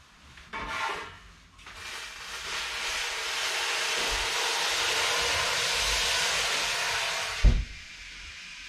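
A steady, loud hiss of steam from just-boiled water poured into a hot oven builds and holds for several seconds, with a clunk near the end before it quickly dies away.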